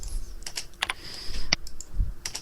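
Quick, irregular clicks of typing on a computer keyboard, crisp and close, with a few sharper key strikes scattered through a short burst and no talking.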